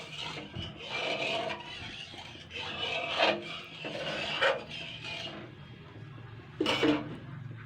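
A pot of water with cumin, salt and sugar is stirred gently, giving soft repeated rasping scrapes of a spoon against the pot's sides at close range, with a few louder sweeps and no talking.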